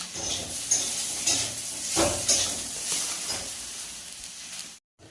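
Potatoes, after the brinjal has been fried, sizzle in a pan for a home-cooked potato-brinjal curry, a steady close frying hiss broken by a few scraping stirs, cutting off briefly near the end.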